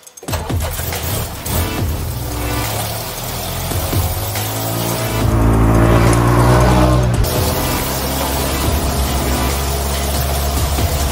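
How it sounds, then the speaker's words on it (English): A 1951 Land Rover Series One drives along, its engine loud and steady throughout with a rising note midway as it pulls harder, heard close and alone. "it wouldn't be a proper day Land Rovering if we didn't have a little drive"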